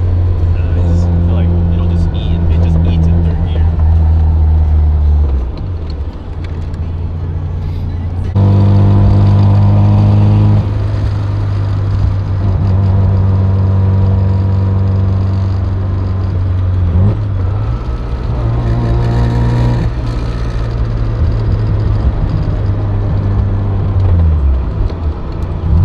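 Mazda RX7 on a test drive held in third gear, its engine a loud steady drone that shifts pitch as revs rise and fall, with people talking in the car over it.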